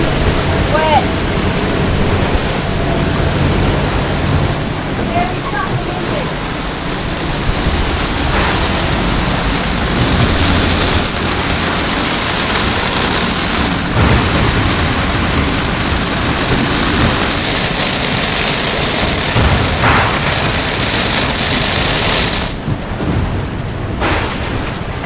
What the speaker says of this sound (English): Just hit 45 knots of wind.